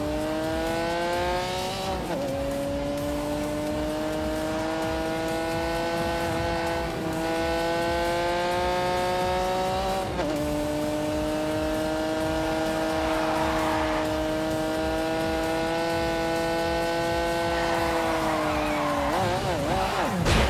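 A car accelerates at full throttle with a loud, sustained engine roar, its pitch climbing steadily through several gear changes marked by brief dips, continuous and close throughout.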